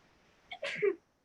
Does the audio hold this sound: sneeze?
yes